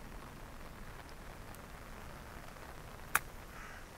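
Steady rain patters on a golf course, a dense even hiss throughout, with a single sharp tap standing out near the end.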